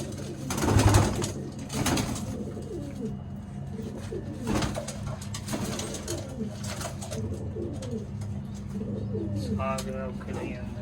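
Soft, throaty pigeon coos repeat steadily in the background, with occasional louder rustles and handling noises nearby.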